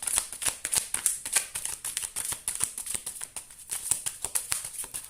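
Tarot cards being shuffled by hand, a quick steady run of crisp riffling flutters and soft slaps repeating close up for several seconds, with no talking.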